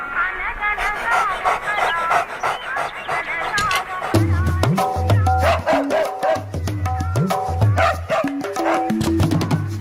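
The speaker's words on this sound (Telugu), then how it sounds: "ఏంటే కుక్క అట్టా సొత్తున్నావు?" A dog in a Telugu comedy film scene gives repeated close barks and yips in quick bursts, with some voices heard alongside.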